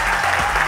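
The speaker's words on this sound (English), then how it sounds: "Please put your hands together for Jayla." An audience at a Revlon Go Bold challenge show claps steadily and loudly, a dense unbroken wash of applause filling the whole short moment.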